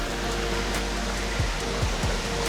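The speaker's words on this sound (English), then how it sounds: "This is like the top of the waterfall up here." Waterfall at a Florida state park pouring steadily, a continuous broadband rush of falling water heard from near the top of the falls, with no talking.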